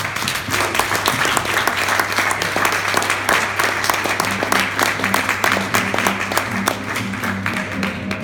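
An audience at a Toastmasters club anniversary breaks into dense, sustained applause, many hands clapping evenly and loudly for several seconds, with a low murmur underneath.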